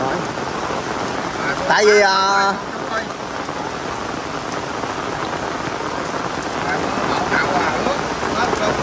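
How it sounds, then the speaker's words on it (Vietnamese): Heavy rain pours steadily at the grave site of performer Vũ Linh, a dense, even hiss filling the whole stretch, with a voice speaking briefly near the start. "quá trời mưa luôn nha quý cô chú"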